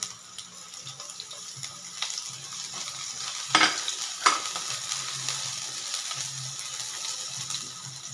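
Onion and garlic sautéing in hot oil for ginisang mustasa, a close continuous crackling sizzle with two louder bursts as ingredients hit the pan and faint low stirring scrapes, no voices.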